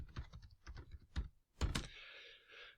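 Typing on a computer keyboard, close and distinct: quick bursts of key clicks in an uneven rhythm, then a short pause, a couple of harder taps and a softer breathy sound.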